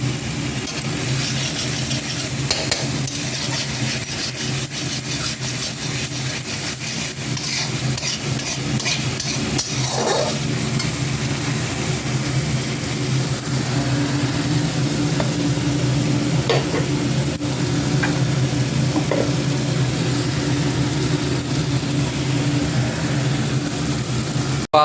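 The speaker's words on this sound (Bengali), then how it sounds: "মশলাটা কষে এসেছে, গ্রেভিটার তেলটাও ছাড়তে শুরু করেছে" Masala gravy fries in oil in a pan with a steady sizzle, while a spoon scrapes and stirs through it in irregular knocks, close and continuous throughout.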